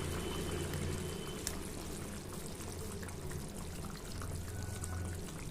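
Bangali-style fish curry, macher jhol, boils in a covered pot on the stove, a faint, steady bubbling hiss with a soft continuous simmer and no talking.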